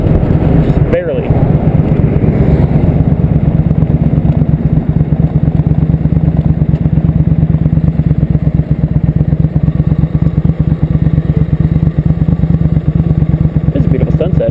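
Motorcycle engine droning steadily in 4th gear at about 35 mph on a ride after dark, a constant close rumble with wind buffeting the microphone throughout.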